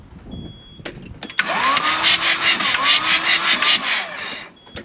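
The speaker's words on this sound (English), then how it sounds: "Now I'll put a bit of WD-40 in the cylinder, so I'll wind it over and let that blow out." A CAT 226b skid steer engine with WD-40 in the cylinder cranks over on the starter, a steady whirring grind with rhythmic compression pulses running for about three seconds after a couple of sharp clicks, close and loud.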